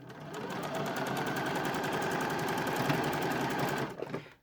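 A sewing machine stitching fleece, heard up close as a fast, continuous mechanical whir with an even rhythm that keeps going for several seconds and then stops abruptly.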